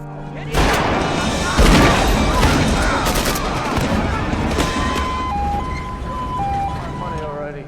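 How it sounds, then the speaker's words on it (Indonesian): A gunfight between police and criminals in a film, with loud bursts of gunfire and impacts over dense action-scene noise, a siren-like tone wavering in the latter half. "Beruntung tak lama kepolisian setempat pun tiba, sehingga akhirnya terjadilah aksi baku tembak"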